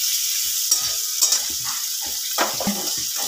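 Bay leaves fry in ghee or butter with a steady high sizzle, joined by soft scraping and stirring movements in the pan, close up and with no talking.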